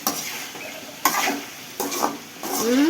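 Vegetable curry with turmeric and chili powder being stirred in a pan, giving a few distinct scraping strokes of a spoon against the pot over a soft frying sizzle, close and fairly loud.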